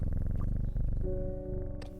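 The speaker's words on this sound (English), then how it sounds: "We have this kitty here" A cat purrs in the video game Strange Horticulture, a steady, continuous low rumble running loud and close throughout, with a faint melodic music tone joining partway through.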